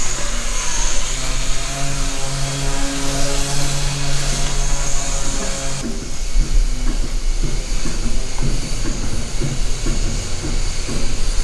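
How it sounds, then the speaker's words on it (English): A small miniature train at the Lappa Valley station hisses and hums with a sustained tonal whine for several seconds, then shifts into a rhythmic clatter of wheels and rumble, loud and close. "The little station where we're waiting for the trains."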